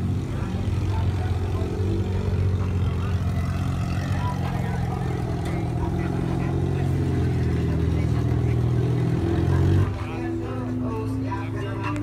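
Red 1958 car rolling past at a Cars and Coffee show, a steady loud engine drone with outdoor crowd noise that drops in level near the end as it passes.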